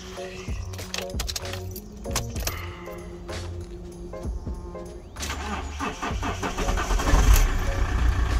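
A van engine, just fitted with new crank pulleys and belts, is heard after a few clicks and clunks; it turns over and fires into a rough, rising running note partway through, loud and close, with no talking.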